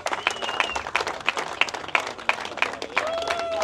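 Crowd applause at a car burnout challenge event, a steady run of claps with sharp, regularly spaced bursts and a faint whistle-like tone sliding near the end.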